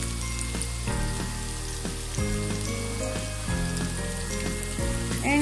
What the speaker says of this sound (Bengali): এখন মিডিয়াম আঁচে আমি পাকোড়াগুলো ভাজব